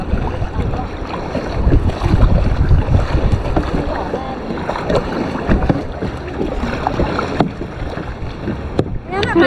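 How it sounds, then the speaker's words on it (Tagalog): Strong, choppy waves slap around a kayak off Green Egg Island, mixed with loud, steady wind buffeting the microphone, while excited voices cry out. "Lakas ng alon!"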